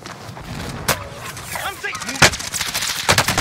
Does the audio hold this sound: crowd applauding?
no